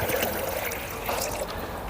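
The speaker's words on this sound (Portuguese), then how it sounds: "Para começar, sempre coloque a água primeiro no recipiente" One litre of demineralized water pours steadily into a stainless steel container, a continuous close trickle and splash for caustic-soda black oxide solution, with no voices.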